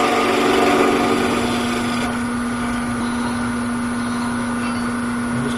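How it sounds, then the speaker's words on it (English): A wood lathe spins a backscratcher blank held in a chuck while a skew chisel makes a paring cut, giving a hissing cut over a steady motor whine that thins out after about two seconds. "I'm going to use my skew tool, and I'm going to make a paring cut just to flatten this out."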